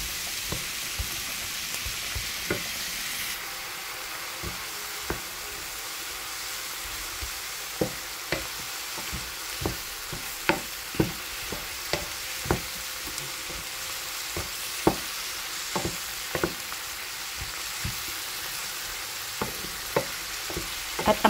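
Carbonara sauce with crushed black pepper cooking in a pan, a steady low sizzle broken by frequent sharp clicks of a spoon stirring against the pan, close and with no talking.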